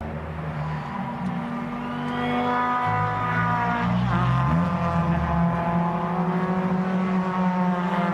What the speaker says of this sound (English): the cars are out on track, as you can see